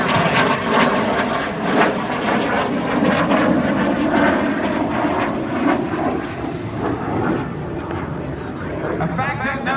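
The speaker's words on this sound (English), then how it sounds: "the aircraft, the F-86 Sabre jet" North American F-86 Sabre jet roaring past at an air show in Dayton, a loud sustained engine rumble with shifting whine, under continuous announcer commentary over loudspeakers.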